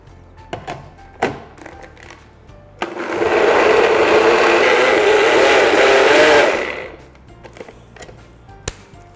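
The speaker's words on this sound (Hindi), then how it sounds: "time to grind this" A blender grinds salt, black salt, kasuri methi powder and milk into a zero-oil tandoori mayonnaise, a loud steady whir lasting about four seconds, framed by a few knocks and clatters before and after.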